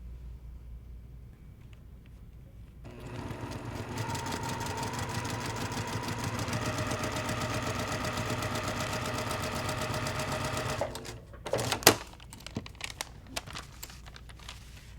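A sewing machine runs in one steady stretch of about eight seconds, stitching fabric onto a paper foundation with a 1/4-inch foot. Fabric and paper rustle and crinkle before and after it, with no talking.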